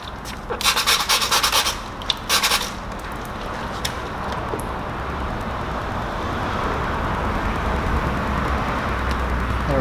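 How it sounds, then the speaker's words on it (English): A squeegee is pressed and dragged over paint protection film on a Porsche side mirror, making close rubbing and squeaking strokes early on, then a steady low background hum. "we're just gonna give a nice little squeegee right there"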